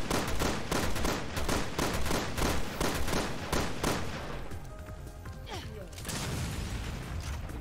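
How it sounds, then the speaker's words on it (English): Rapid pistol shots in Resident Evil Revelations 2 Raid Mode, a fast run of loud, sharp reports that gives way to mechanical clatter and game effects, with a voice speaking underneath. "I'm gonna use all my pistol bullets"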